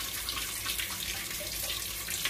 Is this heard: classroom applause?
no